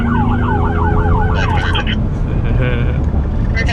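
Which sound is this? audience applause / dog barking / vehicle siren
vehicle siren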